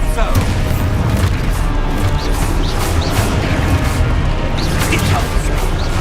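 Blast spells detonate in a fast Hogwarts Legacy video game duel, dense booming crashes and thwacks running continuously with no pause, loud and close, with a voice calling out over the din.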